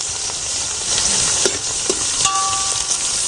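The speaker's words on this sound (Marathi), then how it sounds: "आता मी कांदा टाकते आणि चांगला तेलामध्ये परतून घेते." Chopped onions frying in very hot oil, a loud continuous sizzle with a few stirring scrapes and clinks against the pan, close up and without talk.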